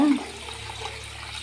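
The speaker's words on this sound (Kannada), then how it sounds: "ಇವಾಗ ನೋಡಿ ಇದಕ್ಕೆ ಈ ಥರ ನೀರು ಹಾಕಿಡಬೇಕು" Water poured over soaked rice in a kitchen pot during sweet appam preparation, a soft continuous splashing and trickle heard close and alone, fairly quiet throughout.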